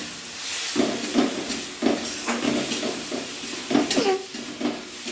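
Chopped tomatoes being sautéed into a thick gravy in a pan, with a steady sizzle broken by repeated scraping stirs at a close, moderate level and no talk.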